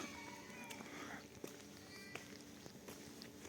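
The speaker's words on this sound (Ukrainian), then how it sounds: "Коти нявкають." Cats meow faintly a few times in an outdoor setting, short calls scattered over a low, steady background, on wet sanatorium grounds in Truskavets, Ukraine.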